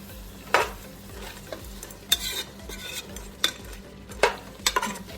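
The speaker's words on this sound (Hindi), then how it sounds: "अब हम इसके अंदर सूखा धनिया और सफ़ेद जीरा डाल देंगे" Dry coriander and white cumin tipped into a hot pan already holding cardamom and cinnamon sticks for a turnip meat dish, a soft sizzle punctuated by several sharp utensil clinks and scrapes, with no voices.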